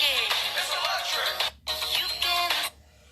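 A phone rings during an online maths lesson, a bright warbling electronic ringtone sounding loudly in two bursts with a short gap between them, then stopping.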